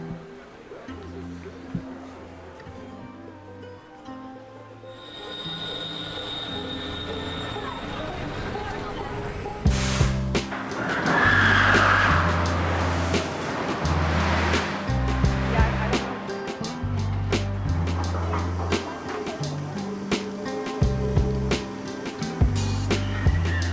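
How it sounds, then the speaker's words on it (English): Powder Keg roller coaster in motion at Silver Dollar City theme park, a loud, continuous rushing roar of wind and track noise with heavy rumbling and clattering bursts that grow busier partway through. "Powder Keg is such a good roller coaster."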